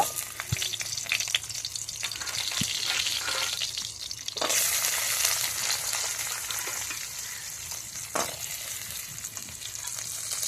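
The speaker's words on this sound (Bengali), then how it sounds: "ওই কড়াইতে আমি বড়িগুলো ভেজে নেব" Dried lentil dumplings frying in hot oil in a wok with a continuous crackling sizzle, swelling louder midway, plus a few faint scrapes and clinks.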